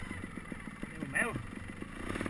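Trial motorcycle ridden at Mas Mimó, its engine pulsing and revving in short bursts close by, with people talking and calling out over it.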